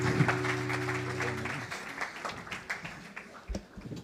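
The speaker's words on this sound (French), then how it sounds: "On peut applaudir le Seigneur." A church congregation clapping together during a Sunday service, a dense wash of applause that gradually thins out, with a sustained tone fading early and a few voices mixed in.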